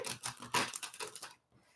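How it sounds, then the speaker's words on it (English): Tarot cards being shuffled during a live psychic reading: a quick run of papery riffling snaps up close, then a short pause and a faint rustle at the end, with no talking. "It's going to be a last shuffle here."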